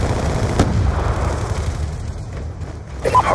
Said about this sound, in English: My sentry's shooting them.